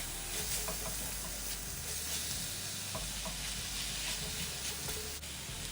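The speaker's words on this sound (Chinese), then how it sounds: "1大匙麻油，1大匙白糖，最后再1大匙胡椒粉，接着再拌炒均匀。" Preserved vegetable dumpling filling stir-fried in a wok with sesame oil, sugar and pepper, a continuous close sizzle and hiss with scraping of the spatula tossing the mixture, no talking.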